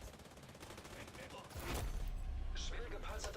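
Rapid bursts of gunfire in The Division 2 crackle continuously, turning into a louder, heavier barrage partway through against a heavily armored enemy, with sharp higher-pitched impacts near the end.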